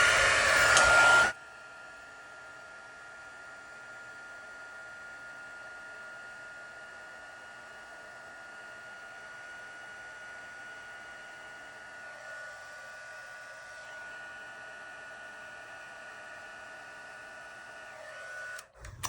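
A heat tool blows steadily to melt embossing powder on vellum, a continuous even whoosh with a constant fan tone, close and alone, after a brief loud burst at the start.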